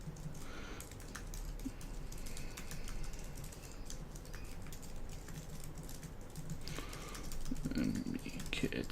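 Rapid, steady clatter of a computer keyboard as a screenplay is typed in Final Draft, close and continuous throughout, with a faint voice speaking in the background at moments.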